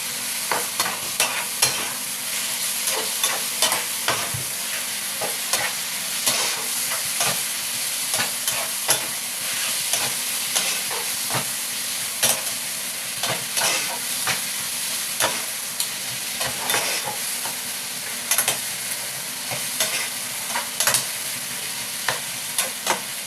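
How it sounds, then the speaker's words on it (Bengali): Bengali-style mutton curry sizzles steadily in a pan while a spoon stirs and scrapes through it in irregular strokes, a close, continuous frying hiss with no voices. "ভালো করে কষিয়ে নেব।"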